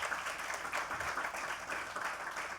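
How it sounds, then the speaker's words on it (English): A faint audience applauds a group of devotees from New Zealand at the opening of a medical centre in Fiji, a soft steady patter of many hands continuing for a few seconds, distant and low. "Please give a very big round of applause."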